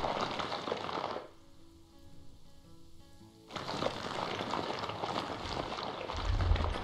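Rain pours down in the zoo-building game Planet Zoo, a steady broadband hiss that drops away for about two seconds, leaving faint tonal background, then returns just as loud and continuous.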